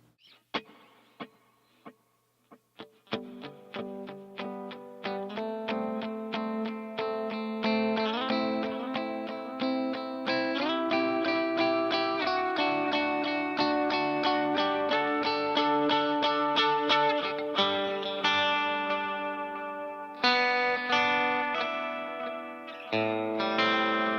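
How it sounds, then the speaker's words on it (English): Guitar played through a Strymon Timeline delay pedal, a sequence of picked notes whose repeats echo and overlap into a sustained shimmering wash, building after a quiet start and ringing out alone. "This is a delay sound that you can achieve with the Timeline."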